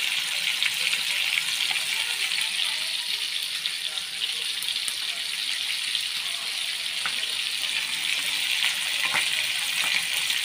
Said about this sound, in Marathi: जर मासा फ्राय ते चांगलं कडक असं तळू द्यायचं, कडक असं भाजायचं खरपूस